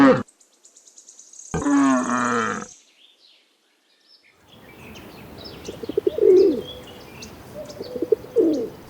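A pigeon cooing in soft, repeated low calls against outdoor ambience with other faint bird chirps, preceded by a short burst of unrelated sound and a brief silence.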